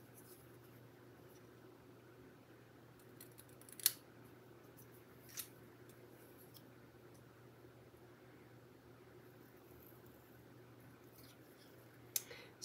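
Scissors trimming a paper card at a quiet craft desk: a few faint, sparse snips over a low background hum.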